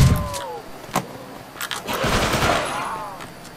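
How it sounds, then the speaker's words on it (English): Bursts of Tommy gun fire in a zombies shooter game, short clattering volleys scattered through the moment, mixed with game sounds and engine-like noise, with a voice talking faintly underneath. "Get away or I'll use my Tommy gun on you"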